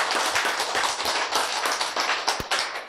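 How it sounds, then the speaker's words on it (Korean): Hands clap in a scattered burst of applause during a Korean lecture, a short run of brisk, close claps with one sharper slap near the end. "박수"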